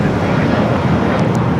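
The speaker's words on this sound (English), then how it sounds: "We'll be followed by another Delta Heavy coming in from Kahului, a 767-300ER" A Delta Airlines Boeing 767-300ER lands at Los Angeles International Airport with a loud, continuous broadband jet roar close by that stays steady throughout.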